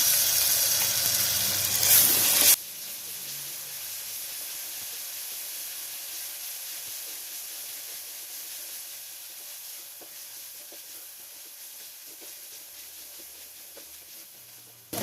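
Ginger garlic paste sizzles with fried onions in oil in a pressure cooker for mutton kuzhambu: a loud burst as it hits the pan, then a steady close hiss with faint stirring scrapes.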